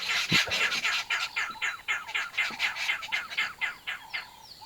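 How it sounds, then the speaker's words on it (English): A group of arrow-marked babblers chattering noisily, rapid harsh babbling calls repeating in pulses, fairly close and loud, with no talking, in the morning at Londolozi. "This morning we are with the noisy Aramark babblers behind us."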